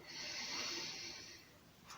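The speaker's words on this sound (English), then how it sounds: "And we're breathing in." A person takes a slow breath in during a seated chair exercise: a soft, airy inhale lasting about a second and a half, close and fairly quiet, followed by a brief pause and the start of another breath.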